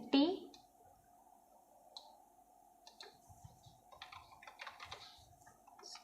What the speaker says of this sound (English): Now I am typing all the details